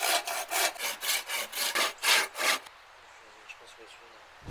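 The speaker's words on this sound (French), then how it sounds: "On va couper un petit peu ce morceau là." A hand saw cuts a piece of wood for a bushcraft workbench in the forest: about nine steady, rhythmic rasping strokes, close and loud, then the sawing stops and quiet woodland remains.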